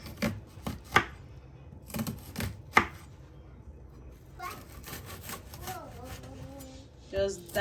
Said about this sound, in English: Just dice everything up.